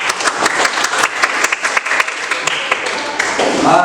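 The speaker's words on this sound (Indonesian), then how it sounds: "Oke, kita berikan aplaus." An audience in an Indonesian group presentation session applauds, dense steady clapping from many hands lasting several seconds, close and fairly loud.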